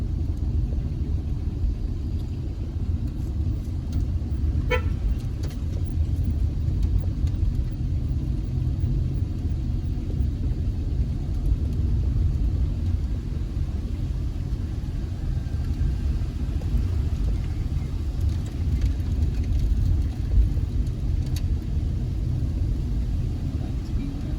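A car drives along a newly improved road through Moore Town, a Maroon community, its engine and tyres giving a continuous low rumble with faint rattles, while people talk in the cabin.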